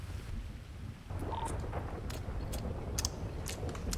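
Steady rain hiss with deep rumbling thunder in a stormy city during a GTA 5 roleplay session, low rolling rumble throughout with a few sharp crackles and drips near the end, no voices.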